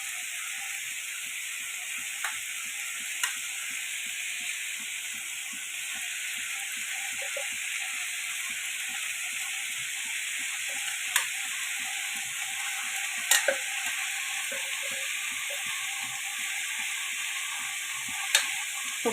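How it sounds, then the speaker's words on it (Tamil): Half a shell of grated coconut frying and being stirred in a pan, giving a steady, even sizzle throughout with a few sharp scraping clicks from the utensil. "இந்த தேங்காவை வந்து நான் இப்போ போடுறேன் பாருங்கள்."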